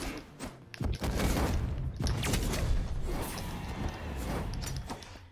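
Bombs going off during a Brawlhalla match, a run of broadband bursts and crunching impacts over a busy, continuous game-sound bed lasting several seconds, fairly loud with no talk.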